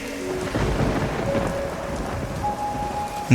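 Heavy rain pours steadily with a deep rumble of thunder rolling underneath, a dense, close stormy wash used as an effect in a Bengali horror audio story.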